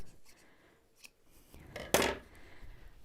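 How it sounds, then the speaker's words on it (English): Scissors snip through excess 100% bamboo quilt batting, 6-ounce weight, in one loud, sharp cut after a few faint rustles; no one speaks. "If I need to trim off the edge, I just fold it up so that I can see my backing and know where to trim it."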